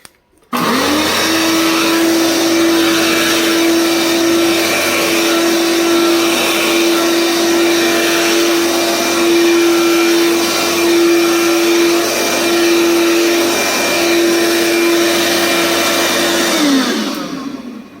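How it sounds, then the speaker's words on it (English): A Dirt Devil Roommate vacuum cleaner switches on and runs rough with a loud, steady motor whine and a strong constant tone, then winds down as it shuts off near the end; no voices. "You can see this one runs a little bit rough, but it does work"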